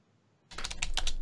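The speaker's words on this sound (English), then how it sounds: "It sounded, I heard typing." Typing on a computer keyboard begins after a short quiet, a close, rapid run of clicking keystrokes.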